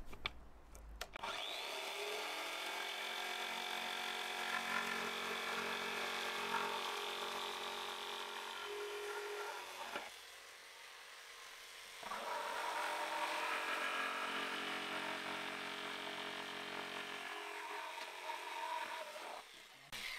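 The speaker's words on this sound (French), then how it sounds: "C'est ma scie sauteuse à moi." A jigsaw cuts through wood in two long runs separated by a brief pause, a harsh buzzing rasp close to the microphone.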